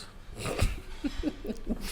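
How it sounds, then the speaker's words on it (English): Short nasal snorts and breathy huffs repeat in quick succession, close by, with a small whimpering tone mixed in. "Did you just snort?"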